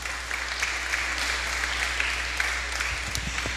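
Church congregation applauding together in a steady, sustained wash of clapping across a large room, with no talk over it.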